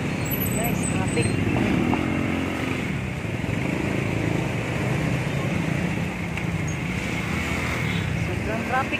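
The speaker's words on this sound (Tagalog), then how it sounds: "Traffic na naman dito, guys." Congested road traffic on the way to Antipolo, with motorcycle and car engines rumbling steadily close by, while people talk over the noise.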